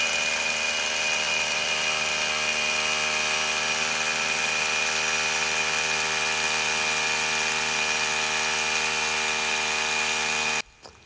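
A hammer drill bores into a brittle old masonry paving stone 2 to 2.5 inches thick, a steady loud whining roar held for about ten seconds before cutting off abruptly.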